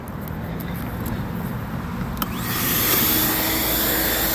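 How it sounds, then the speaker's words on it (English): A shop vac runs steadily while cleaning out a 2014 Cadillac ATS engine air filter box fouled by a rodent nest, its broadband whine swelling louder partway through as the nozzle pulls at debris. "I'm gonna proceed with the shop vac"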